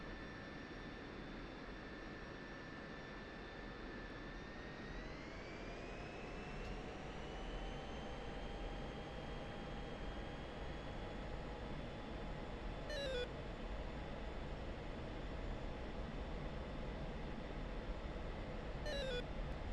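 An F-16C Viper jet engine in the DCS flight simulator runs on the runway: a loud, steady roar whose whine climbs in pitch as power increases, with a few faint ticks later and no talking.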